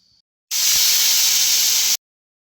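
Steam hisses from a pressure cooker heating water, one loud, steady burst lasting about a second and a half that starts and stops abruptly, heard up close with no talk.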